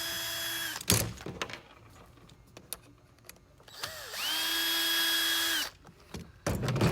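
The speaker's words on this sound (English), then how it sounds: "And we're going to start by removing the screws." Cordless power drill backing out two screws from an upper rib arm connector with lights, giving short whirring bursts, the longest a steady near whine of about two seconds, with brief clicks and handling noise between.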